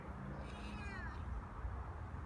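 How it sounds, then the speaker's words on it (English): A feral cat lets out a single rising-and-falling meow at close range over a low rumbling background, the call lasting under a second before fading. "so he's starting to meow"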